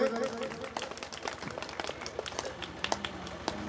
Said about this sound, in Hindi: कृपया करके जोरदार तालियां बजाएं